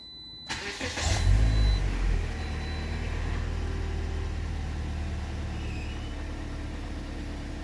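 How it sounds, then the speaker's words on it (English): A 2009 Toyota Corolla engine, freshly filled with Mobil 1 5W-30 oil, cranks and catches, revving briefly before settling into a steady, low idle that continues to the end. "Start the engine."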